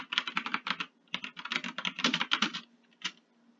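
Rapid typing on a computer keyboard, with bursts of clicky keystrokes in a steady patter, a short pause near one second and a lone final cluster of keys; close and fairly quiet, with no talking.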